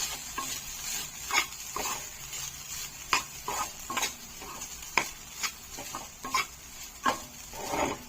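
Ragi semiya sautés in a pan with repeated clinks and scrapes of a spoon against the metal, in an irregular rhythm over a faint, low sizzle.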